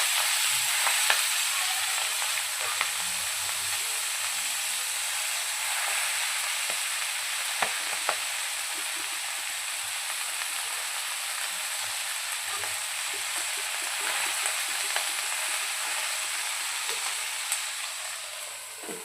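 Fenugreek leaves frying with thecha in a pan, giving a loud, continuous, hissing sizzle with occasional soft clicks and scrapes from stirring, close up and steady throughout, with no talking.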